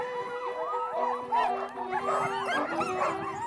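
Alaskan huskies at a sled dog tour in Os, Norway, howl and yip together in a dense, continuous chorus of rising and falling cries, loud and close, with little else audible.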